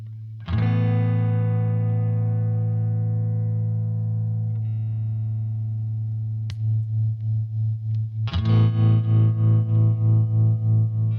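A sustained electric guitar chord rings through a BOO Instruments analog tremolo pedal, starting steady, then pulsing into a clear, even throbbing volume wobble that strengthens after a fresh strum, loud and alone.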